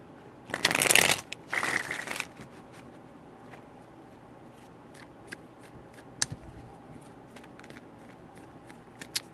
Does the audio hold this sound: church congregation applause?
no